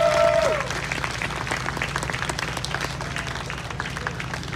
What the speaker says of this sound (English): Let's give our ancestors a round of applause.